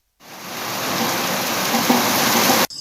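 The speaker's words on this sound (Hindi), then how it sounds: "ये 2 दिन से जो भारी बारिश हो रही है" Heavy, continuous rain pours steadily during a two-day downpour in Uttarakhand, a dense even hiss that starts abruptly, holds loud for over two seconds, then cuts off.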